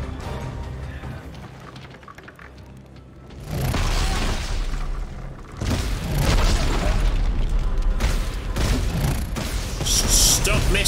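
Two heavy, booming rocket explosions from the video game Dead Space 3 crash out one after another, with a rumbling game soundscape continuing loudly between and after them.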